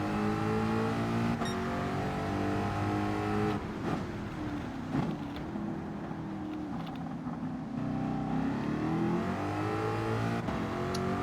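Race car engines in the Gran Turismo 7 racing game drone and rev steadily, with shifting engine tones, brief gear-change dips and continuous mid-level motor noise throughout, and no talking.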